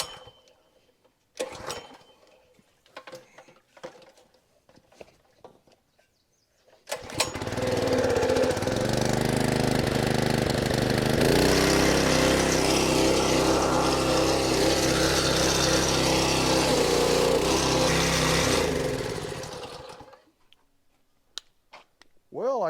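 A small gasoline pressure washer engine on a farm catches after a few pulls and then runs loud and steady close by for about thirteen seconds before shutting off, with ticking and handling noises around it.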